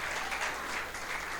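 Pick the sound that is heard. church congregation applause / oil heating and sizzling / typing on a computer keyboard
church congregation applause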